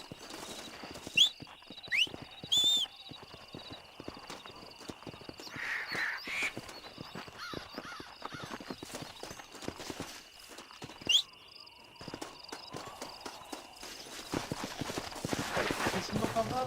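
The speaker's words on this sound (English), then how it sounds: "Esse é meu cavalo." Horse hooves clip-clop at a walking pace in the Red Dead Redemption video game, with brief whinnies early on, game ambience and birds calling behind, and some speech mixed in.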